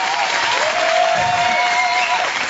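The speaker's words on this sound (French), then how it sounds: "applaudissements pour eux" Audience applause for a children's boys' choir, a steady wash of clapping heard slightly muffled and even, with a faint tone running underneath.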